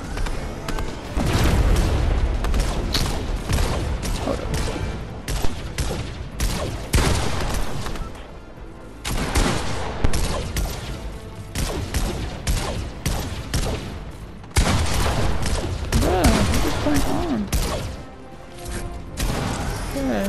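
Rapid bursts of pistol gunfire in a Fortnite solo match, sharp cracks and booms repeating in dense volleys with brief gaps, loud and close.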